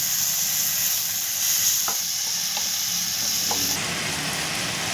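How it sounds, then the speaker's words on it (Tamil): Tomato puree and ginger garlic paste sautéing in a pan for street-style cauliflower, a loud steady sizzle and hiss with a few soft stirring knocks, close up and without talk. "இதையும் நல்லா கலந்து விட்டு மிக்ஸ் பண்ணிவிட்டு நல்லா வதக்கி விட்டுக்கலாம்."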